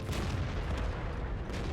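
Tank cannon fire from an Object 430 II in World of Tanks, a dense rumbling battle wash with a few soft booms and bursts blending into continuous low noise, no distinct close shot standing out.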